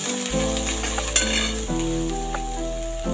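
Onions sauté in a pan with salt and half a spoon of turmeric for chapati chivda, giving a continuous close sizzle with light stirring scrapes and no voices.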